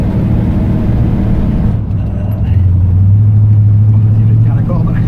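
Loud, close engine roar from inside a muscle car lapping a circuit, among Firebird, Cobra and Camaro cars, the note dropping then settling into a sustained low drone, with someone talking over it.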